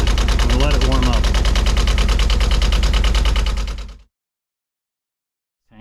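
Sailboat inboard engine idling while warming up, a loud, steady rhythmic chugging close by that runs for about four seconds and then cuts out to silence.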